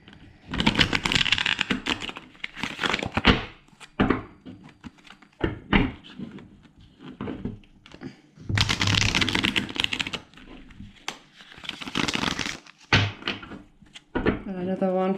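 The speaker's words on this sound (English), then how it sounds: "Let's give the cards a shuffle and see what we have here" Tarot cards shuffled by hand in a series of riffling, slapping bursts with pauses between them, fairly close and moderately loud, followed by a softer flutter near the end.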